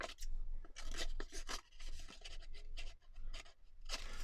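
Scissors cut through folded paper corners in close, quiet rasping snips, several in a row separated by short pauses.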